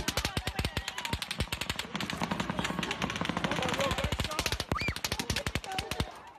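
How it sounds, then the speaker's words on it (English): Rapid bursts of automatic gunfire played back as a recording, with dense sharp reports in quick rhythmic volleys running through the whole stretch, loud and close, with a brief denser lull midway. "Give me one word to describe the sound we just heard. It's horrifying. Chilling. Gunfire."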